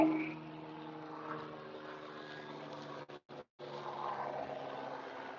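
Police helicopter passing overhead outdoors, a steady droning rotor and engine hum with faint rhythmic thumping, continuous and moderately loud, with two brief dropouts partway through.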